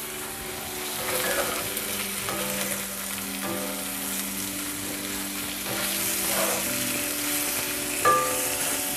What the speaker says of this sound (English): Oh, my meat's browning.